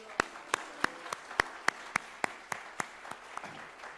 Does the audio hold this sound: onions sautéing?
no